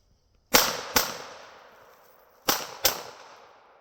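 A Glock pistol is fired through a shirt draped over it, giving four sharp, loud shots in two quick pairs, each with a short decaying echo, in an otherwise quiet outdoor setting.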